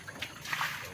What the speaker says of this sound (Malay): Nak buang air dalam bot kejap.